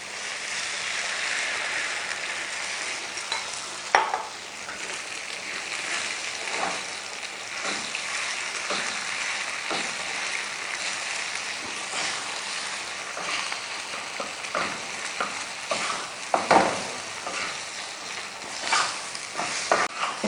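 Eggs with onions frying on a tawa, sizzling steadily while a spoon scrapes and stirs them, giving intermittent sharp metallic clinks and scrapes over a continuous hiss; no talking.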